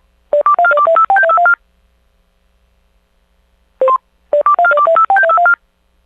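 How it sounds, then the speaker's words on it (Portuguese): Telephone keypad tones dial a collect call: a fast run of about a dozen distinct beeps, a pause, two single tones, then another quick run of similar beeps, loud and clear over silence. "mas vamos ligar a cobrar."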